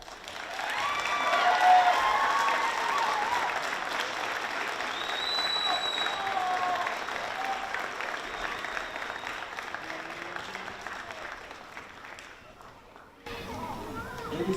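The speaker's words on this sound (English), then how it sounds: "Graduates, I'd like you now to give a round of applause to those who sacrificed so much and who stood by your side" Sustained applause fills a university commencement ceremony as graduates clap for their families, a dense crowd sound with scattered voices and cheers on top, gradually thinning before a brief drop and renewed clapping at the end.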